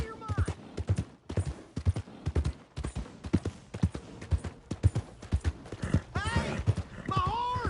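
Horse hooves clip-clop in quick irregular beats in Red Dead Redemption 2, close and loud, with a horse whinnying near the end and voices talking over the hoofbeats.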